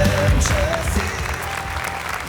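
Studio audience applauding steadily at close range, a dense continuous clapping that holds its level throughout, with some voices and background music mixed underneath.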